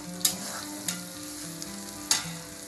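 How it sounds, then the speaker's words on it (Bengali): Onions fry in a pan with a little salt sprinkled in, for shahi chicken pilaf: a soft, even sizzle broken by a few sharp clinks of stirring against the pan. "আমি যেটা করি, পেঁয়াজটা ভাজার সময় হালকা একটু লবণ ছিটিয়ে দিই"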